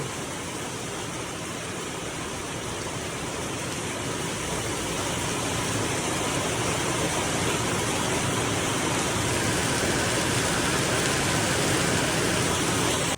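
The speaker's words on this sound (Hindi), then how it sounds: "एक ही दम से भाई बारिश पड़ती है, एक ही दम से रुक जाती है।" Rain pours down around a garage where a car is being worked on, a dense steady hiss that swells slightly louder toward the end.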